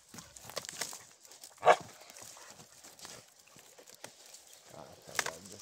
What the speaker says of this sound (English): The dogs have found me.